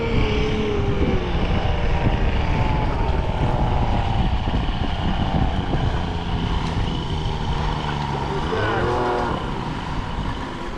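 A rebuilt 1976 Mercury 650XS race outboard runs loud and steady on the water, its droning engine note holding throughout, with a brief pitch shift near the end.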